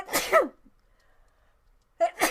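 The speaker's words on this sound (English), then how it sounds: "I'm gonna sneeze" A sharp sneeze bursts out, followed by a brief pause and then a second short explosive burst, close and loud.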